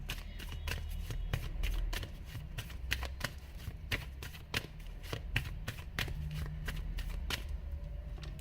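A tarot card deck being shuffled by hand in a steady run of crisp, rapid riffling snaps, close and continuous for several seconds, with no talking.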